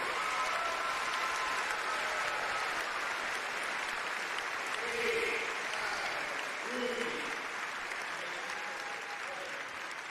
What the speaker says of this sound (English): can we do one more round of applause for our band, our choir?